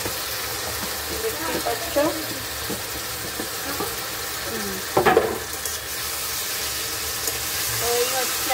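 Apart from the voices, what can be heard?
marinated chicken frying and being stirred in a pan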